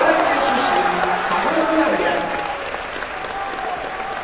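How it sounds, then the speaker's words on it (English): A large arena crowd at a sumo tournament in Osaka cheers and applauds loudly and steadily, a dense roar that eases slightly toward the end, with voices mixed into the din. "they're naming a couple of the local wrestlers from Osaka, and everybody's cheering"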